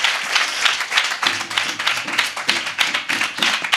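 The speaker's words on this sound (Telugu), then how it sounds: "Just give claps to Jesus Christ." A church congregation claps for Jesus Christ in a quick, steady, loud rhythm of many hands close by, continuous for a few seconds, with no voices over it.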